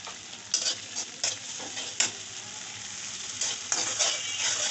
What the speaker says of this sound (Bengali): এভাবে মশলাটা কষিয়ে নিতে হবে।